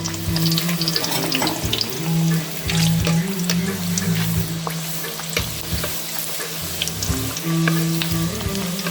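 Poori frying in hot oil for a Tamil poori recipe: a steady loud sizzle and bubbling with stirring, over a continuous hum and running-water noise throughout.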